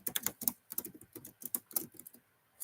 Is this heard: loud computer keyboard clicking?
yes